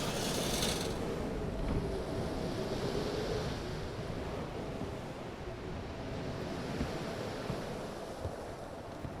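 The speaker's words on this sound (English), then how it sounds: "I think the howling wind sounds like it might be new" Howling wind around a lighthouse in the video game Static Dread: The Lighthouse, a steady low roar of gusting storm air that holds at an even level throughout.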